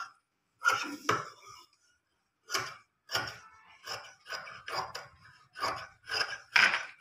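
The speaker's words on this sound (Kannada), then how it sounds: "ಇದನ್ನ ಎಕ್ಸ್ಟ್ರಾ ಇರೋದೆಲ್ಲ ಕಟ್ ಮಾಡೋಣ" Scissors snip extra fabric off a sleeve during garment cutting, a series of short crisp cuts in irregular bursts, close and fairly loud with pauses between.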